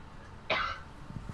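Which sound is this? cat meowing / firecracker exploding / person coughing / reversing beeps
person coughing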